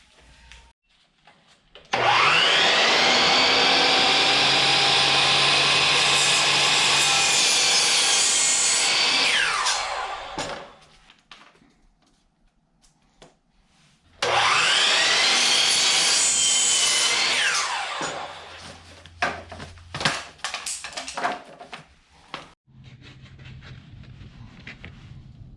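Power saw cutting wood cabinet side panels to 30 inches, two loud sustained cuts of several seconds each separated by a pause, followed by quieter clattering and handling noise.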